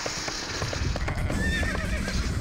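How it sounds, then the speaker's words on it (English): In The Dark Legions, a PC video game, a horse neighs sharply with a shrill whinny over steady clip-clopping hooves and a low rumble of battle ambience. "Alright, we'll get a first look at our horses here."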